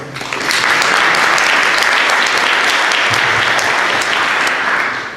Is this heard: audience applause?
yes